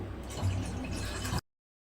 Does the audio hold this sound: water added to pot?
yes